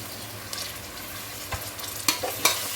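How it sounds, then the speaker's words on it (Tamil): Biryani masala with coriander and mint sizzles softly in a pan as it is stirred, a low steady fry broken by a few sharper scraping taps near the end. "இந்த டைமில் நம்ம கொத்தமல்லியும் புதினாவும் கட் பண்ணி வச்சுருக்கோம்னா அதை சேர்த்துக்கலாம்."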